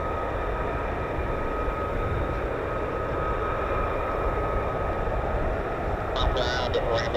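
F-35A Lightning stealth fighter jets of the 48th Fighter Wing on an airfield, heard as a steady, broad engine roar with a constant high whine, sustained and fairly loud throughout, with a few brief higher bursts near the end.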